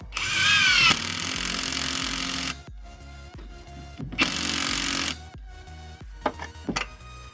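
A power tool tightens the top of a rear shock on a 1984 Toyota Celica RA64 in several close, loud bursts of whirring, with a high whine at the start and short clicks and rattles between bursts.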